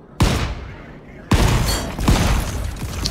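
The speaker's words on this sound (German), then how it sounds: "Ich versuch's immer wieder mit dem Revolver, so ein bisschen aus der Entfernung." Revolver shots fired from a distance in the game Volcanoids, a few sharp separate cracks with rumbling tails, spaced about a second apart over steady background noise.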